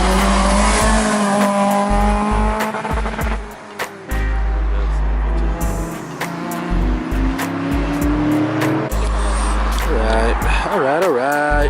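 A car drifting at a race track, with a loud engine revving and rising and falling plus squealing tires, heard close up under continual talk.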